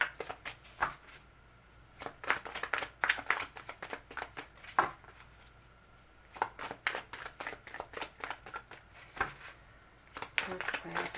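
Tarot cards shuffled by hand in repeated bursts of riffling and flicking, close and moderately loud, with brief pauses between bursts and no talking.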